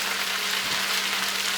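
Pork fried rice with vegetables sitting in a hot pan to crust on the bottom, giving a steady, even hiss of frying throughout, with no talk.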